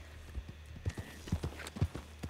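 Horse hooves clip-clop in an unhurried, uneven rhythm in a Red Dead roleplay game, sharp low thuds landing every few tenths of a second with no voices over them.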